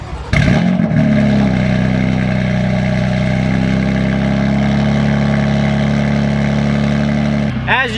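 Big-turbo BMW F80 M3 fires up from cold with a sharp crank and burst, then settles into a loud, steady, rumbling high idle close by, cutting off near the end.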